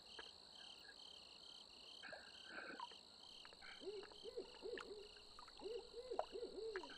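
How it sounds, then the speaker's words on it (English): A hoot owl calls at night in Beehive Cove, Maine, giving a series of soft, rhythmic hoots in the middle distance over a constant chorus of crickets and insects. "And there's a hoot owl a-hooting."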